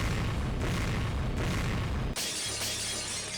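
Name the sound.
explosion blasting through a door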